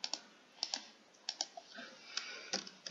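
Quick bursts of keystrokes on a computer keyboard, close and clear, typed in short uneven runs while notes are taken during an online English lesson, with no talking.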